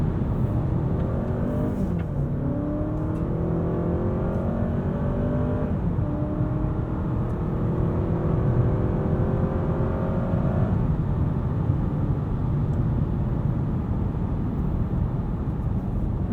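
A 2023 Honda Accord drives along a smooth California back road, its engine droning steadily and rising in pitch as it gears up, heard from inside the car under a constant road hum.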